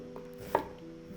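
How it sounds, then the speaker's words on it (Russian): A knife makes a single crisp chop through onion on a cutting board in a home kitchen, faint and brief against steady background music. "быстро нарезаю лук"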